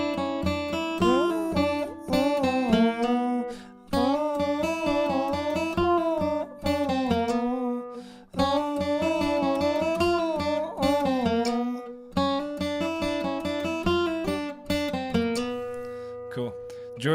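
Bluegrass guitar solo on "Little Maggie," with quick picked notes and slurs in a driving, steady rhythm, played close and clear for about seventeen seconds with brief pauses between phrases.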